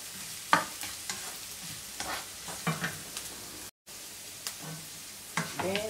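Onion and ginger frying in a pan make a faint, steady sizzle close by, broken by light stirring clatters and scrapes of a utensil, with a brief dropout in the middle.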